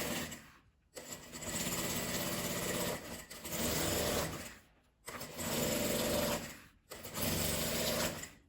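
A sewing machine stitches bias binding onto a clear plastic pouch in several sustained whirring bursts separated by short pauses, close and alone.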